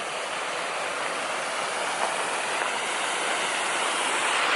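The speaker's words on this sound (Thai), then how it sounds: "นี่คือบรรยากาศภายนอกโรงแรมนะคะก็จะมีน้ำตกด้วยนะคะ" A waterfall outside a hotel near Mount Fuji gives a steady, dense rush of falling water, constant and fairly loud with no other sounds standing out.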